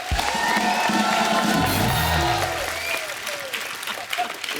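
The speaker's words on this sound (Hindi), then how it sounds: "चंदू के लिए जोरदार तालियां।" Loud, sustained applause from a studio audience at a comedy talk show, with some cheering mixed in and a thin musical tone running underneath, easing off slightly toward the end.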